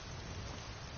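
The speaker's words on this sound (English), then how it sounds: "Now the rain is completely realistic rain" Realistic rain in a PS4 video game hisses as a dense, even wash of falling drops, steady and moderately loud for a brief moment, with no voices.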